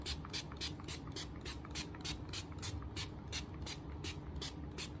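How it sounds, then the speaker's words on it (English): Rapid, regular bursts of fine hissing spray, about three per second, fairly close and steady, with no talking. "I'm gonna spray my face."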